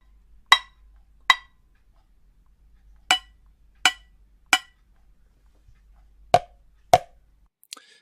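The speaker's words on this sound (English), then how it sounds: "taps on a saucepan and a plastic pot with a wooden spoon" A wooden spoon taps a saucepan and a plastic pot in seven sharp, isolated knocks spread unevenly over several seconds, each short and dry against near silence.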